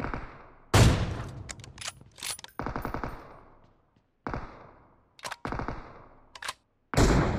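Automatic gunfire aimed at an enemy in PUBG Mobile, loud close bursts of rapid shots that stop and start, separated by short silences.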